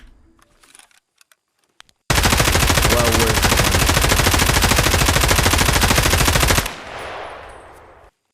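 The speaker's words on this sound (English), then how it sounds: "I'll show you just hip firing." An M4 rifle hip-fired in the video game Escape From Tarkov lets off one long, loud, rapid automatic burst of about four and a half seconds after a few faint clicks, then the sound tails off into reverberation.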